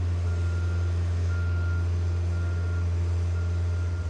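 A boom lift drives forward and then backward, its reversing alarm beeping steadily over a constant low engine drone, close and continuous throughout.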